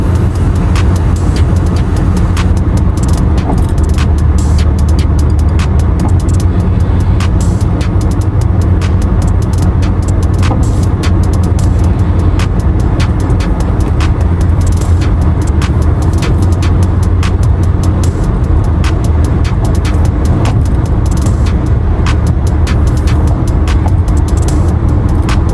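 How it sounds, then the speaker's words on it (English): Car driving along a Chinese highway in the evening, with a loud, steady interior road and engine rumble and continuous tyre and wind noise throughout, close and without speech. "But when you drive around in the evenings, like I'm doing this evening, it's kind of cool."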